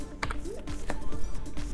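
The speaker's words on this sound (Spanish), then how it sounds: "simplemente volvemos a pulsar la tecla M" A few crisp keystrokes on a computer keyboard, close and distinct, spaced irregularly over a brief moment with faint background hum.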